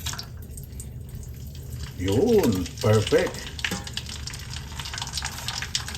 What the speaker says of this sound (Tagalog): Ayan, kumukulo-kulo na.